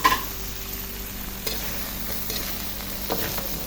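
Eggplant (talong) being added to a hot wok (kawali) for vegetable pakbet, giving a steady soft sizzle with a few scraping stirs of a spatula over the frying.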